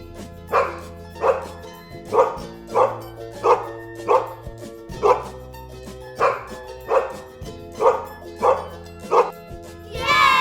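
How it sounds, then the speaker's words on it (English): A dog barks about ten times in a steady, evenly spaced rhythm. The barks are clear and fairly close, with soft background music underneath. "Dog."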